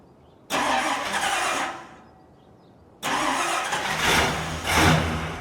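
A 1976 Chevrolet Suburban fitted with glasspack exhaust cranks and cold-starts twice: a first short burst dies away, then the engine catches and roars up loudly, close by with no talk.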